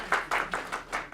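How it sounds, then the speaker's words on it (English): An audience at a Passover gathering claps briefly, with about half a dozen distinct, fairly close claps in a loose rhythm and no speech over them. "Clap some more, please."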